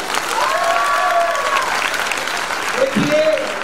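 Audience at a quiz show celebrating Dev Anand's birthday claps steadily throughout, a dense sustained applause with a voice calling out briefly over it near the end.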